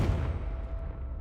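A Confringo spell blast in Hogwarts Legacy lands as one loud, deep rumbling boom that decays over about a second, close and alone.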